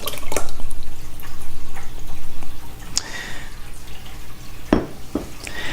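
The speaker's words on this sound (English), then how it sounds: "In a 6-quart or larger saucepan, add 6 cups of your favorite spaghetti sauce." Spaghetti sauce pours into a 6-quart saucepan with thick, wet glugging and a few sharp knocks against the pan, loud and close.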